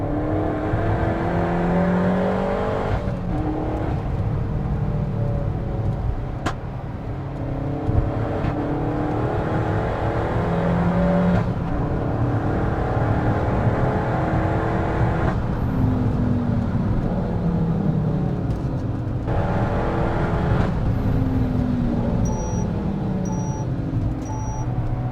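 A Peugeot 308 GTi driven hard on the Castle Combe race track, engine loud and close, repeatedly revving up through the gears with rising pitch sweeps and sharp drops at each shift over a continuous roar.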